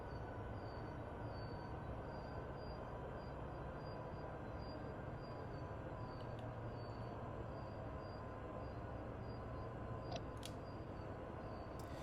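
Steady rumble of a locomotive rolling along the rails in Train Sim World 2 on Sherman Hill, a continuous low drone with faint high squeaks, constant and unbroken throughout.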